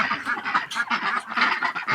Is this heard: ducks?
yes